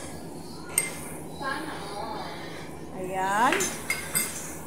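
Metal utensils clink against a pot or bowl while food is mixed with basil leaves, a few sharp taps scattered among soft stirring, close by, with a person talking over it.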